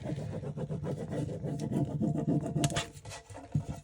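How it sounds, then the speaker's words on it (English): A decor transfer sheet being rubbed down onto a painted furniture surface, giving a steady, close scratchy rasping that continues without break for a few seconds, with no talking. "once I get the whole transfer rubbed"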